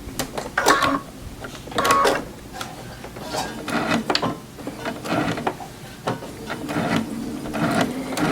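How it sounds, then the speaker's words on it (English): A sewing machine pieces quilt fabric with a scant quarter-inch seam, its needle clattering in rapid mechanical bursts that start and stop repeatedly, close and fairly loud with no voices over it. "And when I'm sewing my line,"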